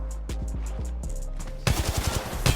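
Gunfire in the mobile shooter Apex Legends Mobile: a quick stutter of single shots, then a dense rapid burst of automatic fire with punchy reports, loud and close.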